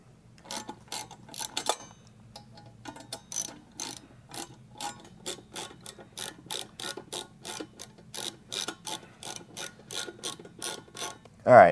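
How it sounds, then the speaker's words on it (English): Screws being loosened on a pool pump motor end cap with a ratcheting driver, a long run of quick, evenly spaced clicks, close and fairly quiet, with a short pause early on. "there's 2 screws you loosen back here."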